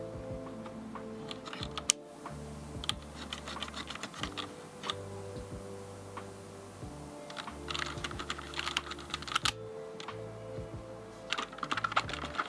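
Keys of a Roccat Vulcan Aimo 120 keyboard clicking rapidly and irregularly as it is cleaned, close and crisp, with bursts of clustered taps and brief pauses, no talking.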